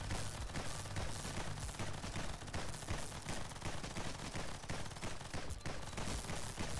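Rapid rifle fire in the game Nimrods Guncraft Survivor, a sniper rifle modified to act like a flak cannon, forms a continuous dense barrage of shots, loud and unbroken, with no pauses.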